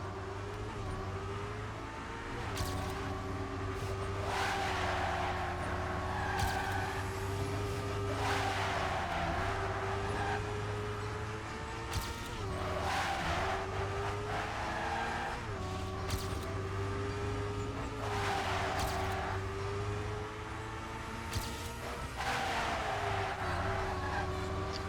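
Car engine from a racing game during map testing, a steady droning hum with shifting pitch as the car accelerates and turns, with repeated bursts of tire skid or impact noise, continuous and fairly loud throughout.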